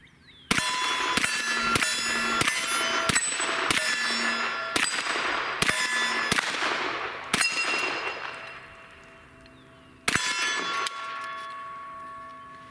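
A Kel Tec Sub 2000 pistol caliber carbine fires a rapid string of shots at close steel targets, each crack followed by a bright metallic ring, then a pause and one final shot with a ringing ping.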